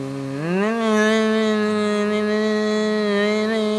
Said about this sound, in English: Oh, it's a throttle sound bug again.